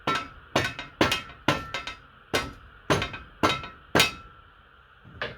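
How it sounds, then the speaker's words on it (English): A series of about a dozen sharp, solid blows from a weighted dead blow mallet striking the end of a hardwood shovel handle, each followed by a brief metallic ring, in an uneven rhythm. "This is a dead blow hammer or dead blow mallet."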